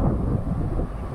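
Steady, heavy wind buffets the microphone on a windy day at a park, a dense low rumble that stays loud throughout with slight gusting surges.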